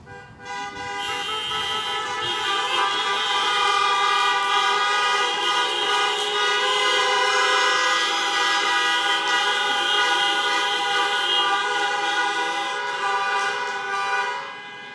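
Many car horns honk together in a sustained, overlapping chorus of blaring tones for the whole stretch, loud and continuous with long held blasts, cheering graduates at a Mount Royal University convocation.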